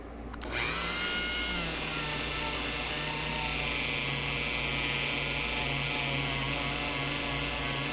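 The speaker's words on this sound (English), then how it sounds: "This is just polish on a Dremel with a little buffing wheel." A steady, high-pitched whine of a Dremel with a small buffing wheel polishing a Jackson Flying V guitar, spinning up and running continuously, loud and close, with no talking.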